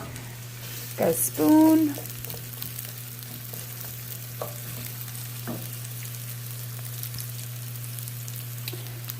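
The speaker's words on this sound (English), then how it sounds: "Notice that they started to cook right away because our oil was hot." Onions frying in hot oil in a pot for baked ratatouille, a low steady sizzle over a constant hum, with a short spoken remark and a few light clinks early on.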